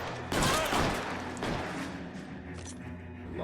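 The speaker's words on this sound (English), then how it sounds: "A lot of bullets flying about the place at the moment." A shootout in the video game L.A. Noire: clustered gunshots burst loudly for about a second, then single sharper shots crack over a steady background rumble.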